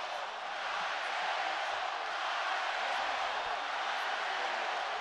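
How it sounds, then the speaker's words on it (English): Boxing arena crowd at the Canelo Alvarez vs Gennady Golovkin fight, a steady, loud roar of cheering and shouting that holds throughout without a break. "Crowd are getting into it."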